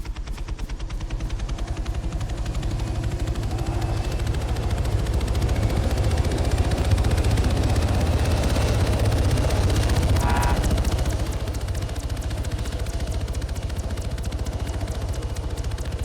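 Helicopter in the Arma video game, a loud continuous rotor thrum with rapid chopping blades throughout, briefly swelling midway amid clattering gunfire-like bursts, with no talk.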